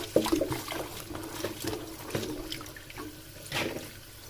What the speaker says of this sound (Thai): ล้างสักสามน้ำค่ะทุกคน